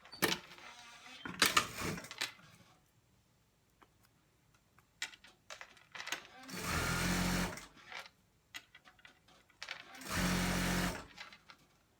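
A sewing machine stitches in the ditch along the seams of fleece track pants, with two long, loud bursts of steady whirring separated by quieter handling clicks and rustles.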